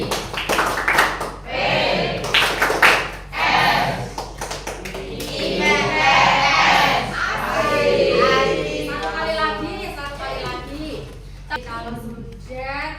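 A school class in Indonesia performs the Tepuk IPS rhythmic clapping routine, patterned clapping bursts with children's voices chanting along in a lively classroom.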